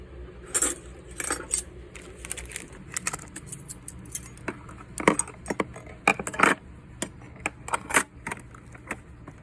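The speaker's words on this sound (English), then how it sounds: "the spoon and fork need to go in." A metal spoon and fork dropped into a lunch container, giving scattered sharp clinks and rattles in irregular bursts over a quiet background.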